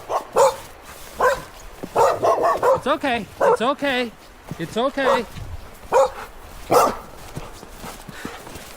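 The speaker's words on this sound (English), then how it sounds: "Oh, there's the dogs in the skidoo now." Excited dogs near a snowmobile on a snowy trail yip and whine in short bursts, close by, while a person talks soothingly over them.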